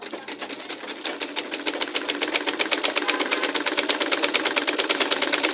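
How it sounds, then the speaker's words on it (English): A sewing machine stitches a back dart on a blouse, its needle hammering in a fast, steady rhythm, loud and close throughout. "So I'm sewing it now."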